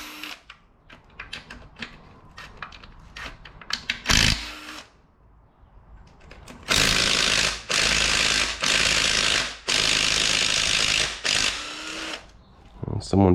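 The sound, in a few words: ratchet loosening a tight bolt on an Audi 2.0T TFSI engine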